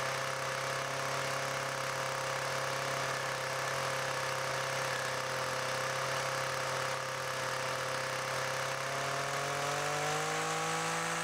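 A small two-stroke Echo brush cutter engine idles and revs steadily at close range, with a faint rattling chatter from the gear head drifting in and out beneath the motor's drone.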